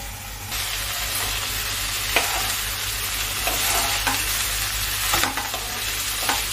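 Pumpkin greens frying with spices in a covered pan, a steady close sizzle with occasional scrapes and stirring clatters, no voices.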